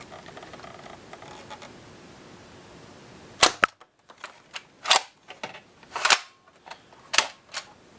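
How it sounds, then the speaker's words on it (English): Toy foam-dart crossbows, including a Nerf CrossBolt, a Buzz Bee Walking Dead crossbow and an X-Shot crossbow, shooting through a chronograph: a series of sharp snapping shots and clacks, about six in quick succession, close and loud over low background noise. "That is a live chronograph test of the Nerf CrossBolt, the Busby Walking Dead series Dwight's crossbow, and the X Shot Crossbow."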